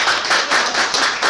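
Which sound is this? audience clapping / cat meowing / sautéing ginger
audience clapping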